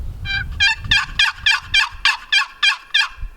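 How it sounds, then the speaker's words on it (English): A beginner's Primos turkey call blown by hand, giving about ten loud, high-pitched, slightly raspy yelps in a steady even rhythm, close up with no talking. "it's gonna sound like a turkey right off the bat"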